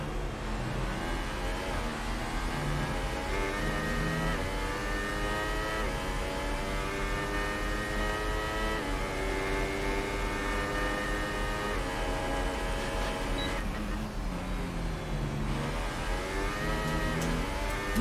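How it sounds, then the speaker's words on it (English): A Formula 1 car in the F1 2018 video game runs a hot lap of the Brazil GP circuit, its high-pitched engine screaming continuously through rising revs and quick gear changes, loud and alone with no talk. "let's just enjoy the engine sound for one hot lap"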